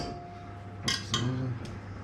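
A metal whisk is tapped against a bowl after whipping meringue, giving two close, bright clinks followed by a fainter third tap, near and crisp in a quiet kitchen.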